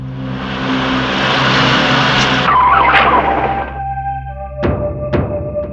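A car skids to a stop with a loud tire squeal after its engine noise, followed by a few sharp thunks, close and prominent with no talk.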